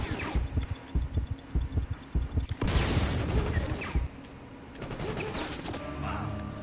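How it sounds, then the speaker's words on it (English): Rapid bursts of gunfire in the Counterspy video game, a quick rattling volley of shots followed by heavier blasts and a lingering rumble, fairly close and alone. "Right as I was about to shoot, he shot."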